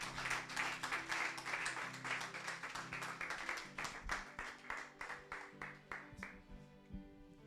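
A church congregation claps and cheers in praise of God, a dense, lively burst of applause and voices that thins into slower scattered claps near the end, heard from a distance.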